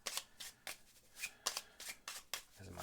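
Cards from the Lost Ruins of Arnak board game being shuffled by hand, a run of quick riffling bursts repeating close up and fairly loud, with no talking.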